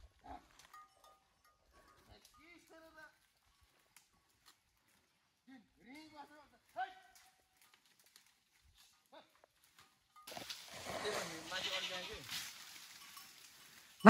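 Goats bleat in a rural setting, with scattered short calls near and far at irregular intervals over quiet, followed by a rustling burst of brush or movement close by.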